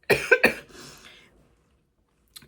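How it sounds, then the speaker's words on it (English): A single close cough, two sharp bursts followed by a fading breathy tail, then silence and a faint small sound. "I was going to cough."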